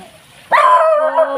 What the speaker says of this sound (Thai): เห่าทำไมล่ะ รู้จักกันแล้วนี่เห่าทำไม